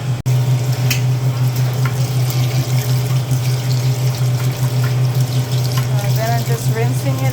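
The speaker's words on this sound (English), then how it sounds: "Just rinsing it out. And it will keep draining." Water rinses out a Speed Queen wringer washer being unclogged, a steady loud rush and drain flow running unbroken throughout, with faint splashing and no voices.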